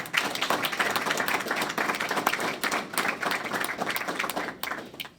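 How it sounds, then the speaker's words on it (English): An audience at a recognition ceremony gives a big round of applause, with sharp individual claps standing out from a dense, fairly distant patter that continues evenly for several seconds before tapering. "One more big round of applause for our."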